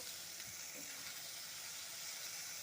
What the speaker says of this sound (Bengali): এখন সমস্ত গুঁড়ো মশলার সাথে ভালো মতো করে কষে নেব